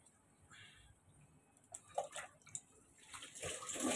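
Warm water poured over a baby named Summer during a bath, a soft trickle and splash rising in bursts near the tub and growing steadier toward the end, with no talking.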